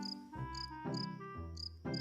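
Cricket chirping in a repeating pattern: short, evenly spaced bursts of high, buzzing trills over a steady tonal drone, close and clear with no voices.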